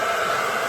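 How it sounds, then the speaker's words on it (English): A T3 hair dryer runs on airspeed 1 and heat level 2, giving a steady, loud broadband whoosh of blowing air with no break throughout. "So I have my T3 hair dryer right here."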